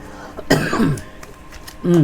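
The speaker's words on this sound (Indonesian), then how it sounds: "batuk ya." One abrupt cough close to the microphone, followed by a person talking.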